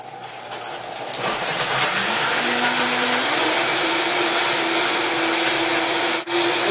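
A blender runs steadily and loudly, a continuous motor whir with a rising then level pitch that fills the whole stretch with no talk over it.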